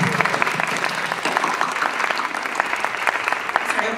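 Sustained audience clapping at the 2018 ATHENA keynote, a dense, even roar of applause filling the hall from start to finish.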